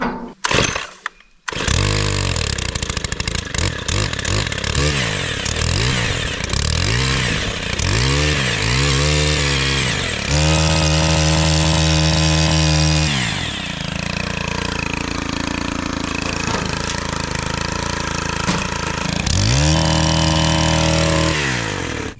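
A petrol earth auger starts up, then revs and labours as it drills a hole in soil for vineyard planting, its loud two-stroke engine rising and falling in pitch over about twenty seconds.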